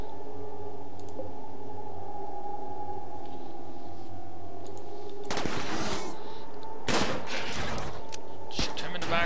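Gunfire from the video game RimWorld comes in a few sharp, loud bursts over the second half, breaking a steady low hum and tones.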